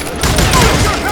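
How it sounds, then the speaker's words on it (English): A heavy shotgun blast and its rumbling echo from the Western shooter Call of Juarez: Gunslinger fill a short burst of loud gunfire, with a continuous booming wash and no clear separation between shots. "I was just glad I had Deputy Bob's mean-ass shotgun."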